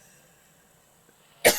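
A single loud, abrupt cough from a nearby person breaks a near-silent room at the very end.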